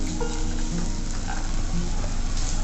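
Sugar, cashews, fasting salt and pomegranate seeds being stirred and mixed together in a hot pan, giving a steady sizzle with soft scraping under it and no voices.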